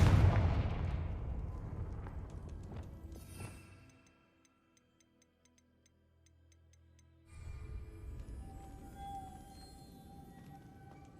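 The Confringo explosive spell in Hogwarts Legacy goes off as a loud fiery blast that rumbles and decays over several seconds, then fades to near quiet with faint ticking before game sounds return.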